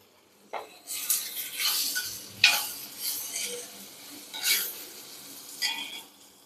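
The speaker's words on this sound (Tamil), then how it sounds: "கொஞ்சமாக நம்ம உப்பு போட்டு வதக்கிடலாம்" Tomatoes sauté with salt in a pan for a Chettinad chicken kulambu, heard as a quiet sizzle broken by repeated scraping stirs of a metal spoon and occasional clinks against the pan, close by.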